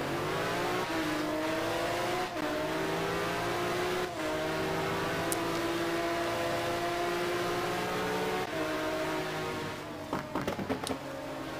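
GT1 race cars, a Ferrari among them, climb the hill to turn one at COTA. Loud, sustained engine roar with shifting pitch and several gear changes, close and continuous, fading near the end as another car passes.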